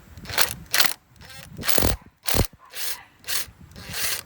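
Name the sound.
socket wrench removing 10 mm coil pack bolt on Infiniti G35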